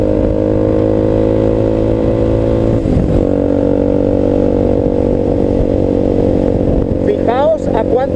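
A VOGE 300 Rally motorcycle engine drones steadily and loudly at close range while riding, with a brief dip and shift around the gear change made with the boot before the tone settles again.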